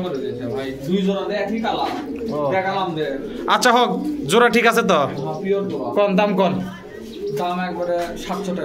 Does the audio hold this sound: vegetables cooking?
no